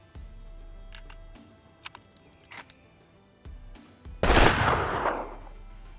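A revolver loaded with .38 Special rounds in the survival game SCUM, with soft clicks and handling noises followed by one loud, sharp gunshot that rings out near the end.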